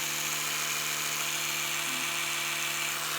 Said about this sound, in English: this has kind of like a rotating, oscillating toothbrush head, and you probably hear the difference in power of this one